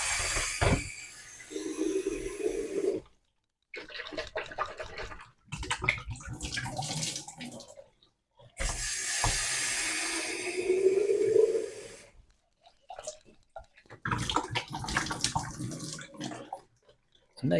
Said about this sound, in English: I will switch to cold water now.